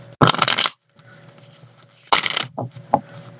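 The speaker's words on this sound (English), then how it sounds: "one more shuffle" Tarot cards are shuffled by hand in two crisp riffling bursts separated by a quieter pause, with a soft tap and a few small card clicks near the end, close and clear.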